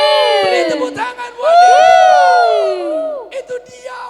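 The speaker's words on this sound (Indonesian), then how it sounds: "Beri tepuk tangan." A church congregation at a children's service erupts in loud, close cheering, with high-pitched shouts and sustained whoops from many voices rising and falling together.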